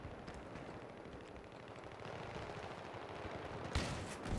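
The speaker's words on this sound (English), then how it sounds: "I'm sniping with my shotgun here." Shotgun blasts in a Battlefield firefight, heard within a steady wash of distant battle noise, with one sharper, louder report near the end.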